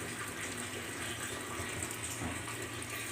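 Water poured into a pot of pork stew, a steady broadband gush of running liquid lasting the full three seconds, fairly close and continuous with no talking.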